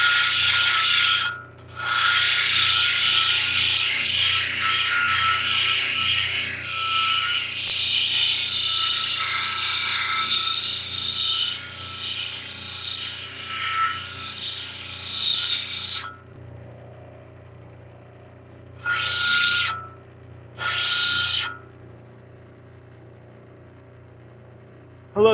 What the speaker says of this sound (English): I am just polishing a piece of Ohio Flint right now and hunting for a shape